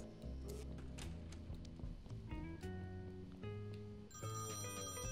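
A telephone ringing in the video game Thimbleweed Park, a continuous electronic ringtone with shifting tones played over game music, moderately quiet with no talk.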